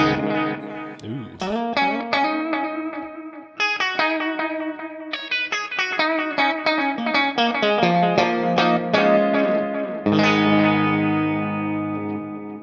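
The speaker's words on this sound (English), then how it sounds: "And so that's got the chorus, delay, and reverb." A clean electric guitar runs through an ML Sound Lab Amped Oracle Iris Delay Clean preset, chorus shimmering over chords and single notes while delay repeats and reverb tails wash out behind the playing.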